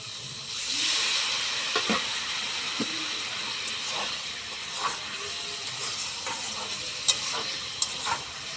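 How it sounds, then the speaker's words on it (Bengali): Vegetable curry with lentil dumplings, potato, drumstick and ridge gourd is stirred in a pan, with soft sizzling and steam under intermittent scraping clicks of the spoon, fairly quiet and close, with no speech. "ভালোভাবে নেড়ে চেড়ে একটু ঢাকা দিয়ে দেবো।"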